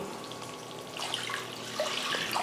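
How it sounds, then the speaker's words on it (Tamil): Water is poured into kara chutney while it is being made, a soft, steady trickling splash that grows slightly brighter partway through, heard close and fairly quiet with no voices. "கூடவே தேவையான அளவுக்கு தண்ணி சேர்த்துக்கலாம்"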